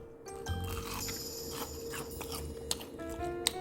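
Crunchy chewing on crispy fried shrimp, irregular bites and crackles up close, with a couple of sharper crunches near the end; no talking.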